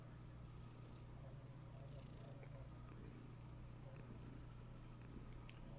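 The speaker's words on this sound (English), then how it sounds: "You can hear his purring." A male cat purrs with a steady, faint, continuous low rumble close to the recorder, and nothing else happens over it.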